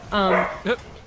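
A dog barks twice, a long harmonic bark followed by a shorter one, close and fairly loud against a quiet background.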